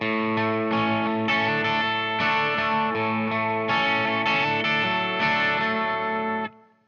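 An effected electric guitar strums a rhythmic chord pattern with quick melodic hammer-on flourishes between strums, steady and fairly loud, ending abruptly.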